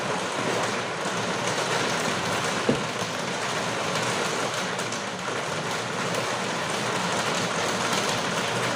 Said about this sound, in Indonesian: Maaf lur ya kalau ada suara hujan, ini karena lagi hujan besar nih